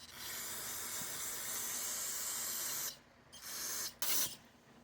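Carb cleaner sprayed onto a generator carburetor: a steady, close aerosol hiss lasting about three seconds, then two shorter bursts separated by brief pauses.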